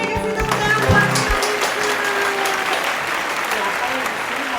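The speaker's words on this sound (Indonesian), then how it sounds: "Kasih tepuk tangan buat Tuhan" Applause from a congregation at a children's church service, loud and steady for several seconds, with voices and a low sung or spoken tone at the start.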